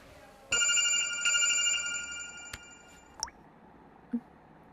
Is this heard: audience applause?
no